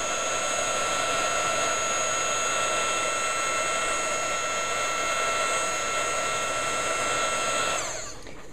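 Heat gun blowing a loud, steady whine and rush of air while melting UTEE embossing enamel and glitter, holding constant for several seconds before switching off and spinning down.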